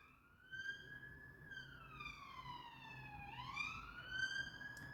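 An ambulance siren outside on a London street, a continuous rising and falling wail heard at a distance, steady and fairly faint throughout.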